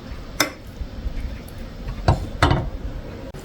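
Half a block of tofu is sliced thickly on a cutting board, producing three sharp knife taps against the board at uneven intervals over a quiet kitchen background, without speech.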